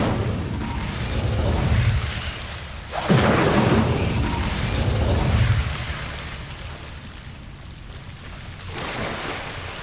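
Hogwarts Legacy's Incendio fire spell bursts with a sharp whooshing flare, then settles into a roaring, rushing rumble that swells and fades over a steady low background.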